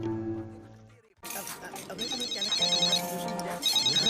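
A telephone rings with a bright, repeating electronic trill in short bursts, loud and close, following a brief stretch of other sound that cuts off.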